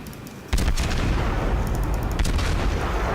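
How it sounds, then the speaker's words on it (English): The cruiser Königsberg in World of Warships fires high-explosive shells, producing loud, booming artillery salvos that erupt suddenly and roll on with sustained rumble. "See, it's firing high explosive."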